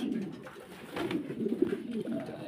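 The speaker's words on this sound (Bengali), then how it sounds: "দেখেন কবুতর, সময় নিয়ে দেখাবো" Fancy pigeons kept for sale coo softly in low, throaty, rolling murmurs, fairly close but quiet, with no talk over them.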